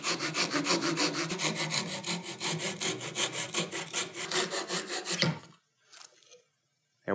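A hand saw cuts steadily through wood for a miter joint, rapid rhythmic strokes rasping close and loud for about five seconds, then stopping, followed by a couple of short, soft puffs of breath blowing away sawdust.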